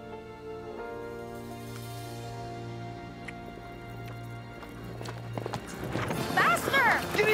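Horse hooves clip-clop at a trot in a steady rhythm under background music, with a neigh and livelier sounds toward the end; voices are faintly present.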